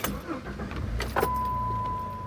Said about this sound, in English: Sounds like the 6-cylinder engine.